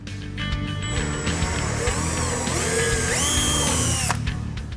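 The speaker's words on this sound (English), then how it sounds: "We're going to drill out this hole for one of the license plate screws" A power drill whines into the metal of a 2010–2014 Ford F-150 truck, enlarging a license plate screw hole, its pitch climbing and wavering as it bites through, running continuously for several seconds before stopping.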